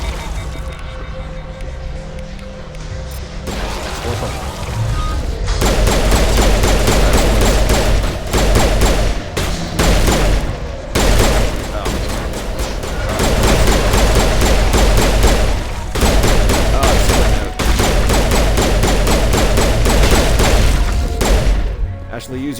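Sustained bursts of video game gunfire with heavy thuds and booms, loud and dense for most of the stretch, briefly broken by pauses, with voices talking underneath.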